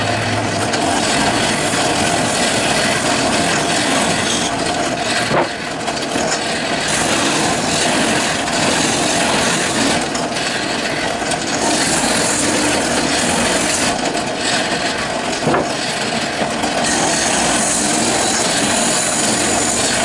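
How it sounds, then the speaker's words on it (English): Sanding the cut edges of wood for a glider bench: a loud, steady abrasive grinding, close up and continuous for the whole stretch, with no voices. "Sand these edges a little bit."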